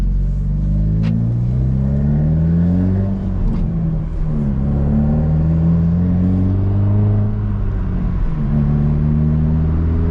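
A modified Hyundai Elantra N driven hard on a track, its engine loud and close, revving up through the gears in repeated rising pulls with brief dips at each shift, steady rumble throughout, no talking.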